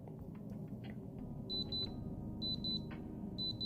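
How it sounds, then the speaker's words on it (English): Soundcore A30i earbuds in find-device mode emit repeated groups of short high-pitched beeps, three bursts of double and triple chimes over steady low background noise. "So like a little beep. Sounds like a little alarm."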